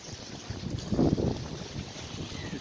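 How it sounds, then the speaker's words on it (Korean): Waves lap against the shore of a small fishing harbour on a seaside coast, a soft wash swelling briefly near the middle over steady wind noise on the microphone, with no speech. "파도 소리 이렇게 철썩철썩 들리고 있고요"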